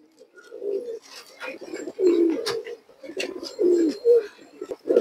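A male pigeon coos loudly and close by in repeated rhythmic bursts, with faint background voices and chirps mixed in.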